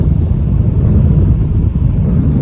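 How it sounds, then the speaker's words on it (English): Strong wind on a sandy beach by the sea buffets the microphone in a loud, continuous low rumble with gusty fluctuations and no voices. "It's pretty windy, and when it's windy enough, the sand blows across the beach,"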